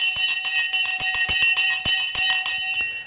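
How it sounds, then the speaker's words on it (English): A bell rung for a live stock market broadcast segment, a steady bright metallic ringing with rapid repeated strikes, loud and close, sustained for about three seconds before fading slightly at the end. "Ring the bloody bell."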